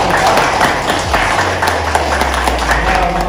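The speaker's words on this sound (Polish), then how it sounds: "Ogromne klaski" A room full of people at a fight gym training session claps loudly for a few seconds, with a dense, uneven patter of hands and some low background noise.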